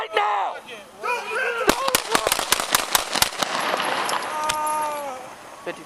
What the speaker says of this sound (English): shots fired, officer involved